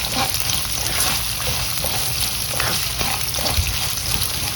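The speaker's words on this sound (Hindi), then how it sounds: "प्याज डाल के अच्छे से रोस्ट करना है। अब इसे अच्छे से शैलो फ्राई होने देंगे।" Onions shallow frying in a pan, giving a steady, close sizzling hiss that runs without a break and carries faint low rumbling underneath.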